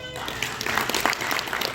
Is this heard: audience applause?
yes